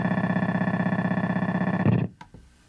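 Synth tone processed with light distortion and a phaser effect, pulsing in a steady rapid rhythm for about two seconds before cutting off abruptly into a short gritty tail.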